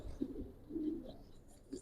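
An old-breed Giribaz pigeon coos faintly in a few low, rolling murmurs close by, with a quiet background.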